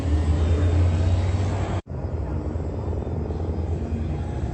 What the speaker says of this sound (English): I want you to hear that helicopter activity.